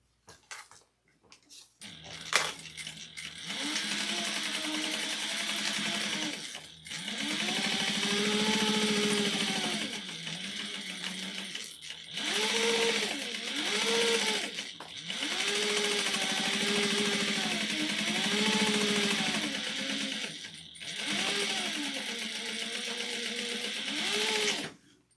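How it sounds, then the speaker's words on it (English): Sewing machine back stitching a crossbody bag, its motor whirring in several long, steady runs separated by short pauses, loud and close, with the pitch rising and falling as it speeds up and slows. "We're going to start back stitching."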